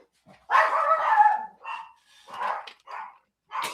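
A dog barks in a few loud, close bursts, one long run of barking followed by shorter yips and barks with brief pauses between them.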